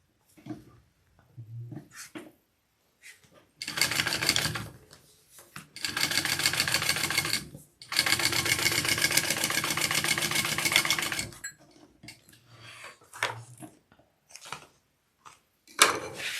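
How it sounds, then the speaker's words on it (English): A sewing machine runs top stitching along the base of a fabric bag in two sustained bursts of rapid stitching, with short pauses and light handling clicks around them. "we're going to top stitch along the base"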